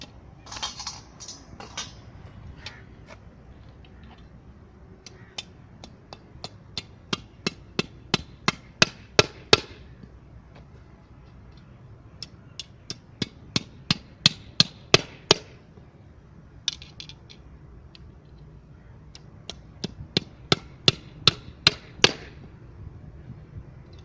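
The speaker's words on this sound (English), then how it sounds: "I will fix this plate in the field with the help of these nails." Hammer striking nails to fix a plate into the ground in a field for a sand replacement dry density test, several bursts of sharp, evenly spaced blows that build in loudness, with short pauses between them.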